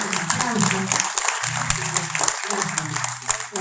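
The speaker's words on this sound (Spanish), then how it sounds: "vamos los aplausos" Audience clapping at a stand-up comedy night during a national-day music event at the San Martín, a steady mass of applause running throughout with a voice speaking over it.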